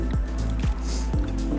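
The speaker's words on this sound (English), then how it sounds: "Now last up, we're going to add some white wine into here." White wine poured from a bottle into a pan of Roman-style stuffed artichokes, giving three soft, evenly spaced glugs over a steady liquid splash, close and moderately loud.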